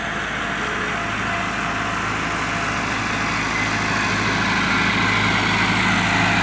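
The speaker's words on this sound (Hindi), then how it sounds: "लेवल करने वाली मशीन है" A Massey Ferguson 375 tractor pulling a land leveling machine in a village field, its engine a loud, steady, continuous rumble and drone close by, with no talking.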